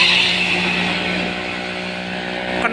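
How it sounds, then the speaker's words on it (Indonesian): A loud vehicle exhaust roars steadily on a roadside as traffic passes, with a hum and a sustained drone that fades slightly over a few seconds, alone without talk. "Knalpotnya teman-teman sangat bising sekali."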